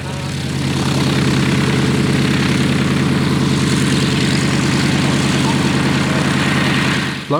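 A CAC-19 Boomerang, an Australian WW2 fighter, runs its engine and propeller close by at an air display in New Zealand, a loud, throbbing, pulsing drone held steadily for about seven seconds.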